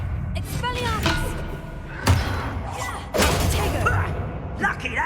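Expelliarmus spell cast in Hogwarts Legacy lands as sharp thumping impacts around two and three seconds in, set against game sound and a voice speaking.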